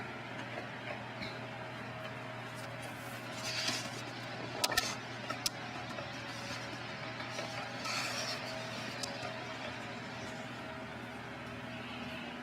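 A steady, low mechanical hum of an electric fan runs throughout during home soap making, with a few faint clicks and shuffles in the room.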